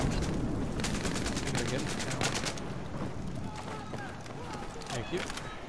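Rapid gunfire in a Battlefield 4 close-quarters match on the Zavod 311 map, bursts of automatic shots dense at first and thinning out, with game noise and a player talking over it.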